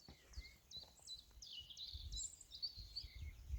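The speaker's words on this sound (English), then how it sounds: "Just birds and the wind and the trees." Birds sing in the Tatra mountains in a series of faint, thin chirps and short trilling phrases. Soft wind and rustling trees run underneath throughout.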